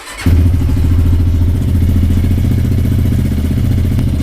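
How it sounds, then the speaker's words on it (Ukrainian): A ROTTOR F1 300 motorcycle with a 175FMM engine fires up and settles into a steady, low, loud idle on choke, the close single-cylinder thrum running evenly after a brief start-up clatter. "Завести можна тільки на нейтралці, або якщо витискаєш щеплення, тоді він заводиться."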